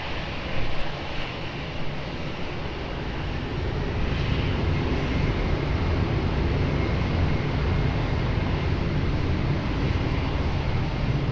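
An airliner on runway 20 at Lisbon Airport rumbles through its takeoff roll, a broad, steady engine roar that swells slightly and holds, heard from a distance.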